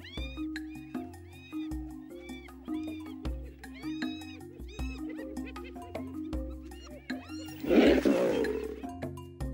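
An angry lion lets out a loud, raspy roar that rises over steady background music.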